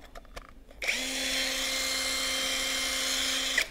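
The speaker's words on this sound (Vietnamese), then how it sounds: "khoan pin 13 ly từ không than" A brushless 13 mm cordless drill with two speed settings spins up with a sharp whirring start, holds a loud, steady high-pitched whine for nearly three seconds, then winds down, after a few faint clicks beforehand.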